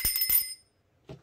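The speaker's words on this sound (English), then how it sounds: "Where's my bell?" A small hand bell rings twice in quick bright jingles, close and loud, followed by a brief voice.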